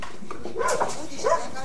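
A dog gives a couple of short barks indoors, fairly close, with a voice speaking around them.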